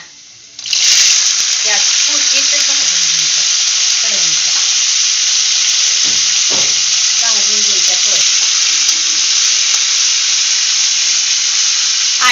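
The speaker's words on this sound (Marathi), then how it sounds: "थोडस जिरं टाकायचं नंतर कडवणच्या जरा भाजून घ्यायच्या" Hot oil sizzles loudly and steadily as cumin seeds are added after a brief quiet start, a bright crackling hiss that runs throughout while a voice talks beneath it.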